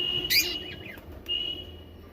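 A newborn pigeon chick gives a quick, thin high chirp and a short squeaky trill, faint against a constant background hum and a steady high whine, followed by a brief second peep.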